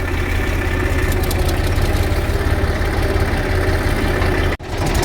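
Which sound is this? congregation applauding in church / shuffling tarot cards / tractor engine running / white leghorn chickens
tractor engine running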